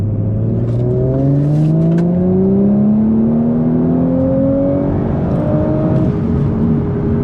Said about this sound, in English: we're in third at around 2000, and I'm gonna mash it.